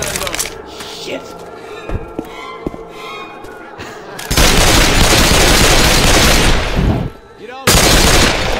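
Incendiary-ammo gunfire in Left 4 Dead 2 erupts into a loud, dense, sustained burst of shots after quieter scattered sounds, briefly cuts out, then resumes at full intensity.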